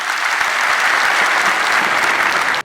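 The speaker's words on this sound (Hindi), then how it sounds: "तो एक बार जोरदार तालियां बजा दो" Loud, dense applause from a large audience at a farmers-and-youth empowerment gathering, a continuous roar of clapping that cuts off abruptly near the end.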